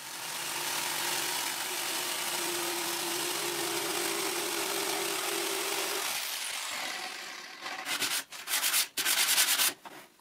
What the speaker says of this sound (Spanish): otra pieza que me servirá de guía para cortar con la sierra de calar